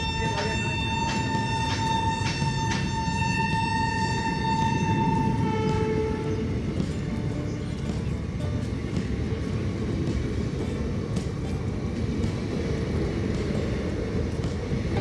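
Passenger train on the Katwa–Ahmadpur line in India, heard from on board as it runs along the track: a steady loud rumble of wheels and carriage noise throughout, with a sustained harmonic horn blast over the first six seconds.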